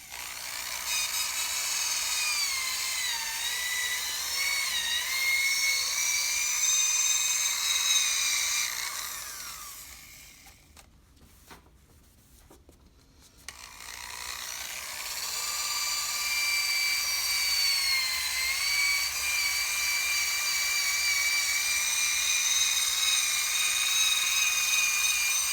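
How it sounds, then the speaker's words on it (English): Power sander working a Toyota Prius headlight lens, a loud, high whining buzz that runs steadily, drops out briefly in the middle, then starts up again and continues to the end. "you get a really nice, even sanding job all over the lens"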